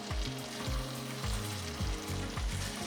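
Egg curry with tomato gravy sizzles in a pan while a spoon stirs it, giving a steady frying crackle broken by repeated soft scraping strokes in an even rhythm, close and moderately quiet.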